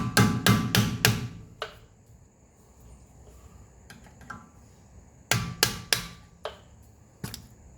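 Sharp metallic hammer taps knocking a wheel hub part off the front spindle of a 1983 Mercedes 300D, a quick cluster of four blows, scattered lighter taps, then another burst of strikes, close and clear in a quiet workshop.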